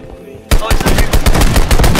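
Rapid gunfire from the video game Deadrop, a loud burst of repeated shots starting abruptly after a brief quiet moment and continuing steadily close up.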